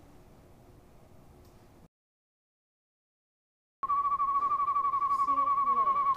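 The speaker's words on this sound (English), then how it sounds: "Sounds like those birds I was hearing." Faint static hiss, a moment of silence, then bird calls: a sustained whistle with short chirps over it, fairly loud and near.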